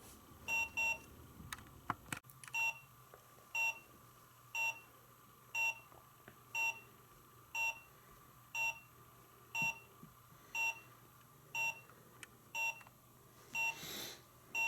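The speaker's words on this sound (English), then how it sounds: "If you're curious about the double beep," A pair of quick electronic beeps from a Break the Safe toy safe game, signalling a loss, repeats at a steady pace about once a second, over a faint background hum, with a brief louder burst near the end.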